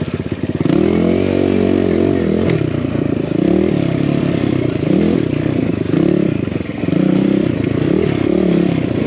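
A Kawasaki KLX 140 dirt bike fitted with a big bore kit is ridden over rocky ground. The engine is loud and close, its revs repeatedly rising and falling as the throttle works, with occasional clattering over the rocks.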